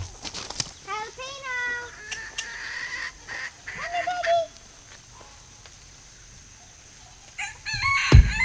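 Hens cluck and fuss near a mother hen with her chicks on a farm, with bursts of clucking and calls up close, a brief louder squawk near the end, and a person's voice in places.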